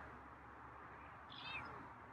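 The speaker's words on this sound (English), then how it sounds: "That was a meow." A single faint, high-pitched meow from a feral cat, brief and quiet against a low background hum.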